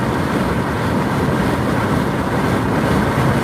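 A truck drives ahead on a highway during a storm chase near Denver, Colorado, its noise merging with road rumble as a loud, steady, unbroken roar heard from inside a following vehicle.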